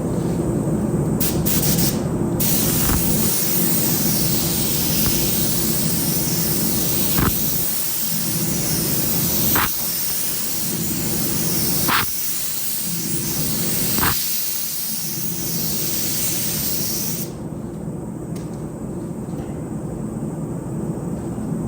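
A spray gun lays down a second coat of 2K automotive primer in a hot shop, a steady loud hiss of atomized air broken by short trigger pauses, then quieter air at the end.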